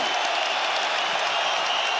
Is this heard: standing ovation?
yes